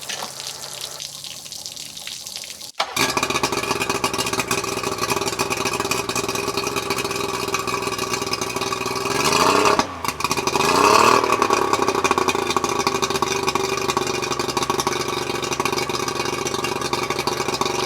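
A small outboard boat motor, idling slightly high, runs steadily and close up, with running water splashing throughout; the engine pitch dips briefly midway, then settles back.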